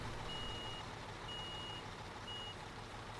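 A construction truck in Construction Simulator gives three evenly spaced reversing beeps over a steady engine rumble, with no talking.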